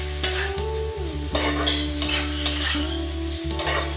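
Vegetables sautéing in a pan for Brahmapur-style biryani, a steady close sizzle with repeated scraping strokes of a spoon against the pan and a constant low hum underneath.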